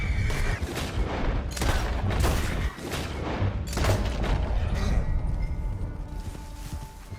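A gunfight in Red Dead Redemption 2, set in the rain, with dense, overlapping rifle and pistol shots and booming reports that ring out continuously over a rumbling backdrop.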